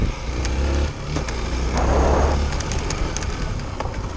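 A motocross motorcycle at a dirt track rumbles nearby, its engine rising into a louder roar around the middle before settling back to a lower drone, with no voices heard.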